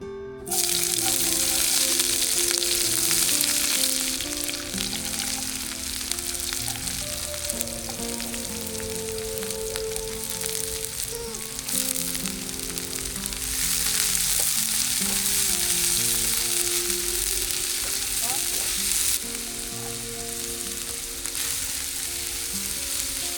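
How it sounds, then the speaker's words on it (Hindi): Spices sizzle and fry steadily in a pan on a gas stove inside a camper van, a continuous close hiss with occasional stirring scrapes throughout. "अब सीधा बस गैस ऑन करते हैं और मसाले भूनते हैं।"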